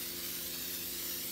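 A spray paint can hisses steadily onto a plastic bucket, one continuous close spray burst with no pauses and no voices.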